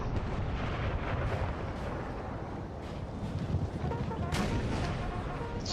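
Napoleonic cannon fire in Napoleon: Total War 3 online battle, a dense continuous rumble of distant booming artillery and gunfire rolling across a battlefield, without clear talk.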